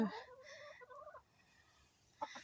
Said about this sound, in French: ma poule folle qui fait ses œufs ici